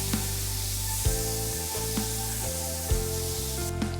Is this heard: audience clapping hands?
no